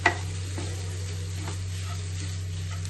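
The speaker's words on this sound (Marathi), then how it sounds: "याला व्यवस्थित सगळं मिक्स करून घ्यायचं." Soft sizzling and light scraping of a spatula stirring boiled egg bhurji in a hot pan, a faint continuous crackle with a small clink at the start, close by over a low steady hum.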